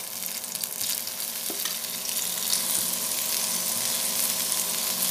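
Okra (ladies finger) shallow frying in oil on a tawa, a steady close sizzle with faint crackle throughout, growing slightly louder midway, with no talking.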